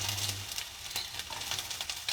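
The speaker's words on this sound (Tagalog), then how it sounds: "At ilalagay na rin natin yung ating bawang." Garlic sautés in a hot pan for a Filipino mussel, squash and spinach dish, giving a steady crackling sizzle with faint stirring scrapes that stays close and continuous, with no talk over it.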